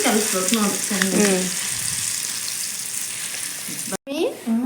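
A roti cooks on a hot pan, giving a steady, moderate sizzle and hiss throughout. Voices talk over it at the start and again near the end.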